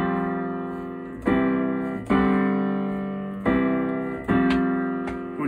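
Piano chords ring out in a sus4 voicing, about five separate strikes each decaying slowly, clear and close with no talking.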